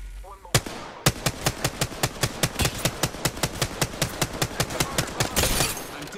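Rapid automatic gunfire in the shooter game Apex Legends: after an opening shot, a fast regular burst of around twenty close, loud rounds fires in steady rhythm, ending in a rougher blast.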